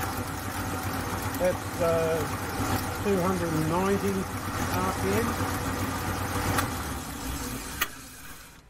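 A Gingery milling machine runs in third gear, a faint steady mechanical hum with wavering whining tones, a brief voice near the end and a sharp click before it drops away.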